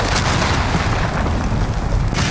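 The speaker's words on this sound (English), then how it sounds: "Enemy cruise missile!" Cruise missile explosion in Call of Duty Modern Warfare, a loud, continuous rumbling boom that fills the whole moment with dense low roar and debris noise.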